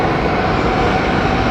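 Aircraft engine noise at London Heathrow Airport, a loud, steady broadband roar that holds constant throughout with no talk over it.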